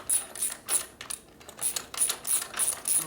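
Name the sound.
wrench tightening a part on a Harley Sportster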